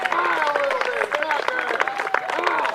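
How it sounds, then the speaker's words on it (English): Fans clap and cheer for the Hazen Union Lady Cats girls soccer team at an outdoor high school derby against Craftsbury, a steady crowd applause with raised voices and whistle-like calls over it. "Nice to see the fans really giving them some love, and big round of applause"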